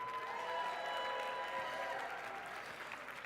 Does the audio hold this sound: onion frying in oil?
no